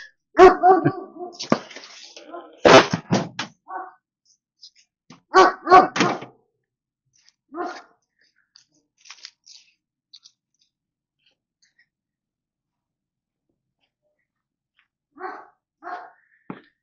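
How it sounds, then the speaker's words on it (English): Jack, the neighbor's dog, barks in repeated clustered bursts, loud and fairly close, then fainter scattered yips and a final pair of barks after a long quiet gap. "that's good old Jack, the neighbor's dog"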